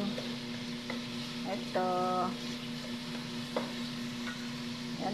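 Onion sautés in a pan with a steady, soft sizzle and occasional stirring scrapes, heard up close, while a person speaks over the cooking and a brief tonal beep sounds.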